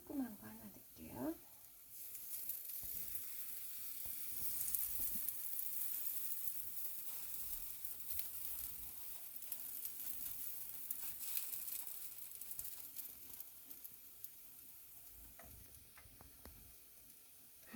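Maesaengi (seaweed fulvescens) pancake frying in a pan, a soft, steady sizzle running throughout under quiet, close talk as more batter is added.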